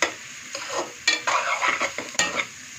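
Green chillies being stirred in a hot pan for a Chinese-style rice, with sharp sizzling and repeated scraping stirs of a utensil against the pan, close and fairly loud.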